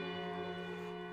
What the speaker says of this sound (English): a bell sounds from the foot of the hill. Several long, slow rings.